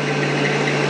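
A rotoverter-driven electric motor runs at a steady pitch, producing an even, continuous hum with a strong low tone and broad whirring noise throughout, close and fairly loud, with no voices.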